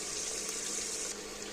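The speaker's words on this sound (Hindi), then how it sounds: "अब इसमें गर्म पानी ऐड करना है" Hot water poured into a pot of Kashmiri ojri curry cooking on a gas stove, a steady close splashing and rushing stream running continuously throughout.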